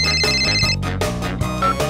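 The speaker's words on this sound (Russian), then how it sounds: "А кто-то мне звонит." A phone rings with a bright, melodic electronic ringtone in a children's cartoon about a blue tractor, its loud, steady tune of repeating notes sounding close and alone.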